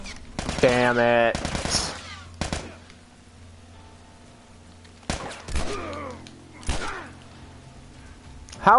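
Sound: gunfire from a video game

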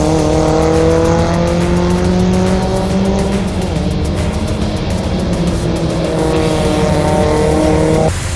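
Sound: race cars racing through a corner

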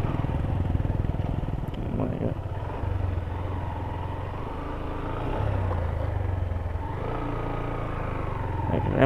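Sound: motorcycle riding with wheels sticking in thick sand

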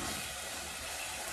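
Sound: scotch bonnet pepper frying in pan

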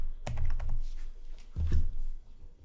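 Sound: computer keyboard typing

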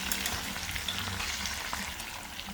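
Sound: pork pan-frying

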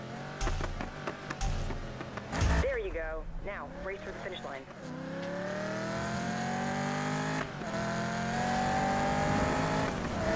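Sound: Camaro drag race burnout in video game Need for Speed

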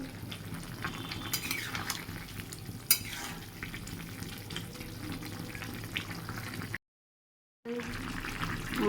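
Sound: soybean curry boiling on high flame

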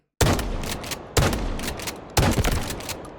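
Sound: FS-12 semi-auto shotgun firing in Delta Force video game

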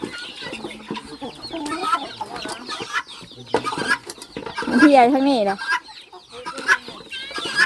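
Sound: chickens, mother hen

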